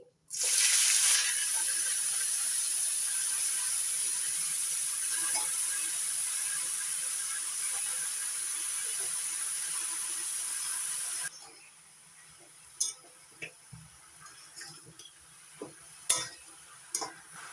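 Water lily stems being dropped into a hot pan for a rustic Bengali shrimp dish, with a loud steady sizzle and hiss that drops away partway, followed by quieter scattered crackles and stirring clatter.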